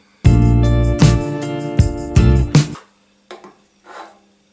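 Metal parts of a hand plane being loosened and shifted on a workbench, giving a few loud scraping, rasping strokes with metallic ringing, then brief quieter clicks and rubs.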